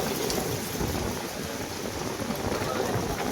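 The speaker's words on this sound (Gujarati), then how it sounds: "ખાલી પવન વરસાદ બી ચાલુ" Heavy rain pours steadily while gusty wind roars and low rumbles swell underneath, a dense, loud storm wash with no voices.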